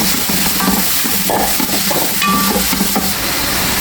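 Three medium onions sizzle in hot oil in a pan, a loud, continuous crackle with occasional scraping as they are stirred.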